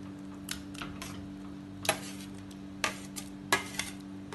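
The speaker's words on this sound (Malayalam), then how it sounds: "ഇതിനി വേവിച്ചെടുക്കാൻ വേണ്ടി അടുപ്പത്ത് ഒരു ചട്ടിയിലേക്കിടാം" Mashed mango tipped from a container into a cooking pot on the stove, heard as a few scattered soft clunks and scraping knocks of a utensil against the pot, fairly quiet, with no talking.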